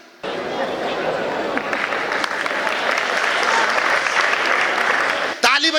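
Live comedy show audience breaks into a burst of loud, dense clapping that holds steady for several seconds, mixed with crowd chatter, before ending abruptly.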